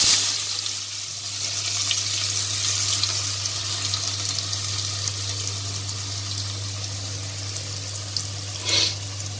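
Finely chopped onions sauté with fennel in a hot pan, giving a steady, loud sizzling hiss over a low hum, with a brief clatter near the end.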